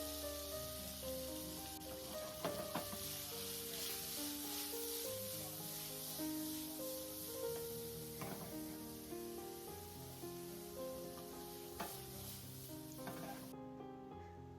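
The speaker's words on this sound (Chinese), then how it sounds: "翻炒几下" Tomatoes being stir-fried with bacon-wrapped okra in a pan, a soft steady sizzle with occasional scraping strokes, faint beneath background music.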